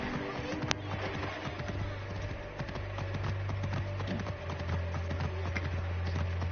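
Horse hooves clip-clopping in a video game, a steady galloping patter of hoofbeats over a low humming background, with no speech.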